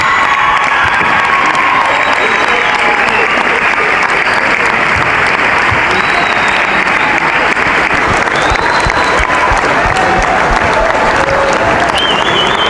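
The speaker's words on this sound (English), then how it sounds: "please join us in a round of applause for all of our seniors" Loud crowd applause and cheering for seniors on senior night at a high school basketball game in a gym, continuous clapping with shouts and whoops rising above it throughout.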